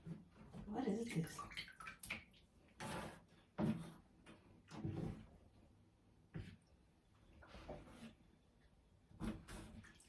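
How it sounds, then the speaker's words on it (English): Water draining from a bathtub after a clog is cleared, heard as soft, uneven gurgling and sloshing close by, mixed with occasional knocks and handling sounds, fairly quiet overall. "It's draining."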